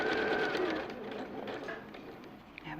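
A sewing machine runs a straight seam in a smooth, continuous hum of rapid stitching that softens slightly toward the end, with faint movement sounds around it.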